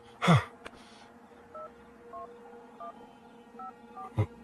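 A phone number being dialed: a series of short electronic keypad tones in an uneven rhythm, bracketed by a couple of handling clicks.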